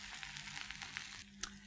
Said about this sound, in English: Let it fry for a little while.